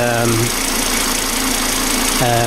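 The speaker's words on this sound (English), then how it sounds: "the idling has dramatically improved after cleaning the throttle body" A Volvo XC engine idles with a steady low rumble and a faint even vibration, continuous, stable and close, after throttle body cleaning.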